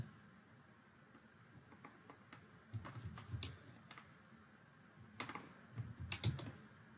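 Password typed on a computer keyboard: a faint, irregular run of soft key clicks, a few at a time, bunching into quicker taps toward the end, with nobody talking.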